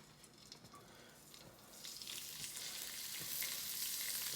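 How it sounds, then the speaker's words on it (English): Sun-dried tomatoes and turkey breast sizzle and fry in rendered bacon fat in a pan, a steady crackling hiss that grows louder and denser partway through, with no one talking. "just brown both of them a little bit in the bacon fat"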